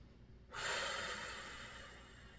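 A single deep, forceful exhale through the nose and mouth while holding a leg raise in a core workout, starting abruptly and tapering off slowly, close and alone.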